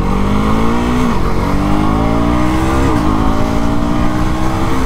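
A 2024 KTM Duke 250 motorcycle engine while riding on the road, loud and close, with rising revs through the gears and two shift dips as the pitch climbs again, with no talk over it.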